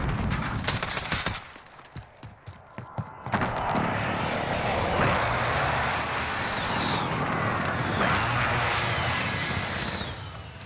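A precision airstrike in a first-person shooter: aircraft roar sweeps overhead after a spatter of gunfire, a loud sustained jet rush with whooshing passes lasting several seconds, no talk.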